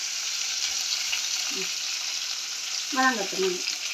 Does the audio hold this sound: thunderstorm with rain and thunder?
no